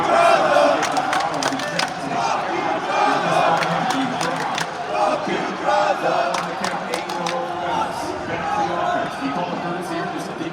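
Large crowd at a Call of Duty League esports event cheering and shouting continuously, with sharp claps and whoops cutting through a dense, loud roar.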